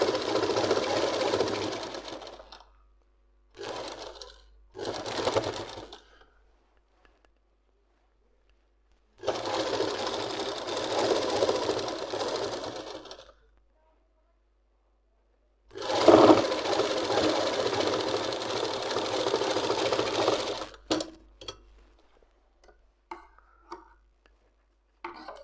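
A sewing machine stitches palazzo pants in five separate runs: three short bursts early on, then two longer stretches of steady whirring with quiet pauses between them. No one speaks.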